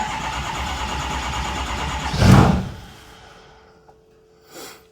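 A 6.0 truck engine cranks and catches in one loud burst, rising sharply then fading into a low steady idle hum, with a brief second surge near the end.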